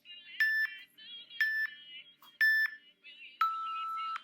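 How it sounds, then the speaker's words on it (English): A workout interval timer beeps in a home exercise session: three short beep patterns about a second apart, then a longer sustained final tone, moderately loud against a quiet room. "And there's the timer"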